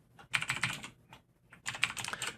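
Someone types on a computer keyboard in two quick, close bursts of clicking, separated by a short pause.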